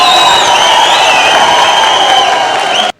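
An audience at a Tamil public speech in Thoothukudi bursts into loud, dense applause mixed with cheers, holding steady before cutting off abruptly.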